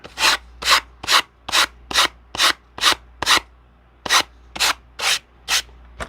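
Rhythmic hand sanding during bookbinding, about a dozen even back-and-forth rasping strokes, close and loud, with a short pause midway.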